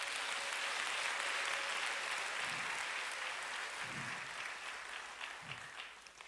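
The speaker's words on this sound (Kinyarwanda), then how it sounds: "Amashyi menshi ku Mana yacu." A church congregation applauds during a sermon by Bishop Albert Rugamba, a sustained, fairly distant roll of many hands clapping that gradually thins and fades toward the end, with no speech.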